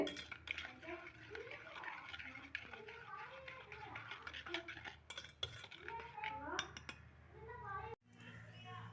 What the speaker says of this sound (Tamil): பொறுமையாக கலக்குங்க. பாருங்க, நல்லா சுகர் நல்லா கரைஞ்சி வருது